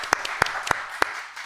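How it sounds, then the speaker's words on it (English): Sparse clapping from an audience at an AI debate event, applauding a debate team; a handful of distinct, sharp claps spaced at a fairly regular beat over a soft background, rather than a full ovation. "a round of applause for Team No as well"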